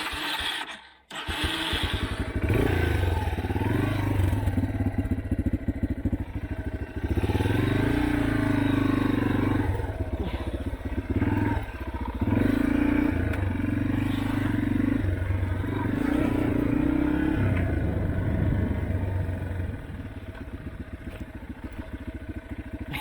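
A motorcycle engine labors loud and close as the rider climbs a very steep hill after an accidental downshift and the front wheel lifts into a wheelie. The engine note stays continuous and rough throughout with no talking.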